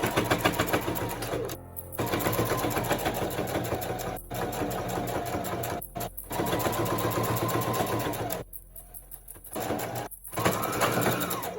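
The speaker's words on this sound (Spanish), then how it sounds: "vamos a coser en la parte de arriba, aquí, en ambos lados, una costura recta únicamente en esas dos partes" A sewing machine stitches a straight seam along the top edges of a small handmade mini wallet, running in steady bursts with several brief pauses between runs, fairly close and loud.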